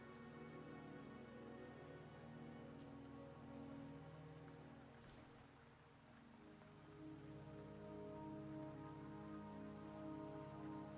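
Steady rain pattering on surfaces in the video game Wuthering Waves, a constant dense hiss with a slight dip in the middle and no voices.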